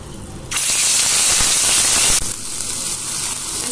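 Coarsely ground pointed gourd and prawn paste hits hot oil with a sudden loud, broad hiss that holds steady for under two seconds, then settles into a softer continuous sizzle, with no voices.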